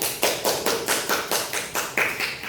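Classroom applause for a student, heard as rhythmic clapping in about ten evenly spaced beats, close and fairly loud, like a group clapping in unison.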